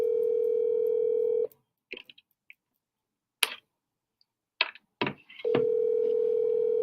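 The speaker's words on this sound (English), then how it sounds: "Let's see if Jesse answers his phone." A telephone call rings out while waiting for an answer: a steady ringback tone runs, cuts off, a few clicks and taps follow in near silence, then the tone resumes.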